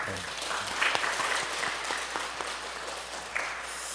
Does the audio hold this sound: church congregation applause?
yes